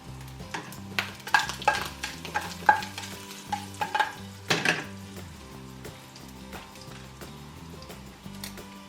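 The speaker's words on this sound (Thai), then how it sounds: "รอให้น้ำเดือดก่อนแล้วค่อยใส่เส้นนะครับแล้วค่อยจับเวลา" Noodles cook in a pot of bubbling water while a utensil stirs and knocks against the sides in irregular clinks, fairly quiet and close.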